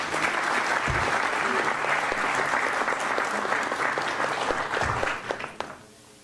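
A dense burst of applause fills a formal ceremony hall, steady and full, then quickly fades out near the end.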